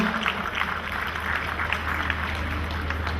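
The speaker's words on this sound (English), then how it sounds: "Big round of applause." Applause at a Deepavali community gathering as a chairman is introduced, a dense, steady patter of clapping from a seated crowd over a low hum, holding even throughout.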